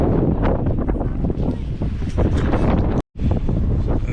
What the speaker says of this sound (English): Sorry about the wind, but that's what happens when you get down near the ocean.